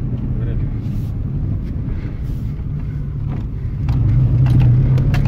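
A car with a 1.6 litre 16-valve twin-cam engine drives along, a steady low engine and road drone filling the clip, with the engine getting louder near the end; no speech.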